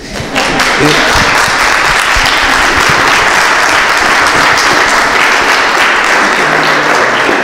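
Loud, sustained applause fills a lecture hall on organic waste, a dense crowd clapping steadily from start to finish with no pause.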